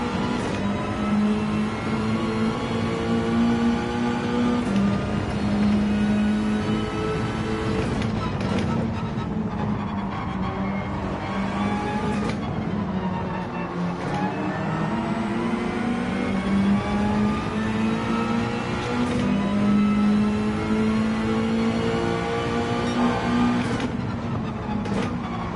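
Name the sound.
race car engine in video game Gran Turismo 7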